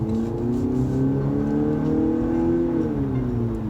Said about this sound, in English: I'm going to get on the throttle here.